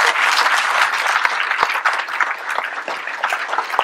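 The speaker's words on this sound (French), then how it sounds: "je pense qu'on peut l'applaudir" A room full of people applauds a municipal police officer, dense steady clapping throughout, fairly close and loud with no talk.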